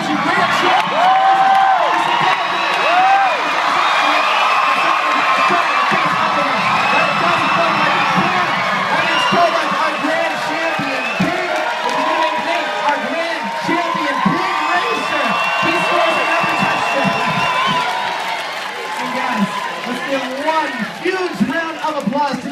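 A fair crowd at the OC Fair pig races cheers, whoops and shouts loudly and continuously through the race, with children's voices mixed in and an announcer talking over the noise.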